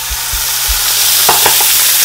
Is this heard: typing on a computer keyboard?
no